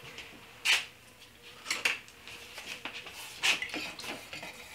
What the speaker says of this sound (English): I'm going to mix my stain,